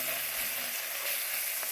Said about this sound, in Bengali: এই যে মাছের ঝাল ফুটছে,